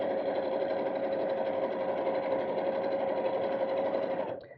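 A sewing machine runs steadily while sewing a craft bag, a loud continuous motor hum with a fine stitching buzz throughout. It winds down and stops at the end, with no one speaking.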